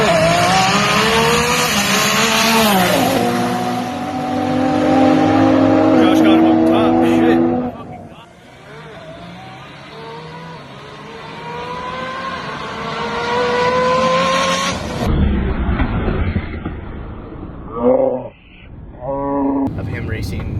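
Street-tuned Nissan GTR cars race flat out in played-back footage, engines roaring loud with rising and falling gear-change sweeps, then a sharp shift, pass and fade, with a voice talking over part of it.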